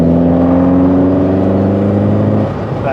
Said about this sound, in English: Those misfires and backfires from the carb from time to time is probably due to not perfectly